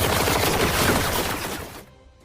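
Rapid overlapping gunfire at shooting practice, a dense loud burst of shots that cuts off sharply near the end, leaving a quieter tail.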